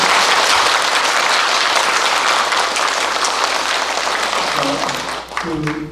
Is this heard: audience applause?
yes